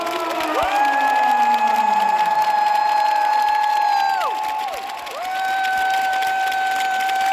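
A big crowd roars and cheers steadily for several seconds, with a sustained tonal melody sounding over the noise, loud and continuous.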